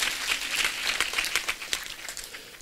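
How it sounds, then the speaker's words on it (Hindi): Scattered clapping from an audience at a Hindi comic poetry gathering, a loose spread of hand claps rising and thinning over a couple of seconds, fairly faint with no voices over it. "एक बार तालियां बजा दीजिए"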